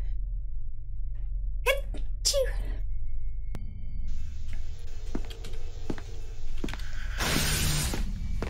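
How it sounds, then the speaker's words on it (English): A single sudden sneeze bursts out in a quiet room during a tense SCP Containment Breach game run, followed by a faint gasp, soft clicks and a hissing ambience. "I'm gonna sneeze."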